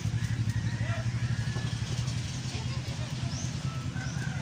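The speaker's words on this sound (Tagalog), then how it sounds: "Honda Click, ang issue nito guys ay pumupugak-pugak yung takbo or yung andar." A Honda Click scooter engine idles unevenly with a rough, sputtering beat, a steady low thrum close by and fairly loud, with some background noise of a workshop.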